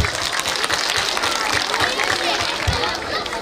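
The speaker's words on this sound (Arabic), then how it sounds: "تصفيق عليها تصفيق عليها تصفيق عليها." An audience at a children's recreation-village closing event claps for a young girl, a dense steady round of applause with crowd chatter mixed in, loud and continuous throughout.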